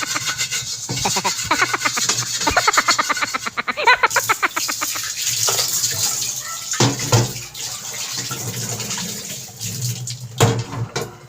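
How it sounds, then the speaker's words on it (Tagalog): Running water splashes and streams continuously, with scraping and clattering as a frying pan is rinsed under a tap, a few louder knocks near the end. "At hugasan po natin ang kawali."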